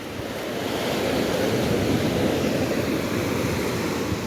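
Ocean waves break steadily on the beach at Puri, a dense, continuous surf roar with some wind rumble, close and loud throughout, with no talking.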